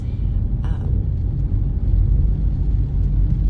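A car on the road gives a low, steady rumble of engine and road noise from inside the cabin, with a voice faintly talking over it.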